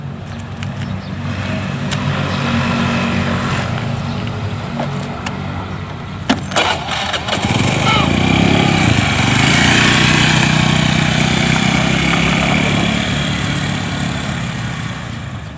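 Several motorcycle engines rumble on a street in a Sundanese comedy film's chase scene, with a steady close drone that swells louder midway as the bikes rev and pass.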